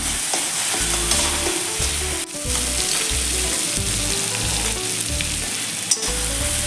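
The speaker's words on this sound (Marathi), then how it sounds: "हे दोन्ही लसूण मिरची आणि मीठ हे दोन्ही छान परतून घेऊयात 1-2 मिनिट" Garlic, green chili and salt sautéing in a pan for a rajgira (amaranth) leaf dish, a loud continuous close sizzle with steady stirring and scraping throughout, no voices.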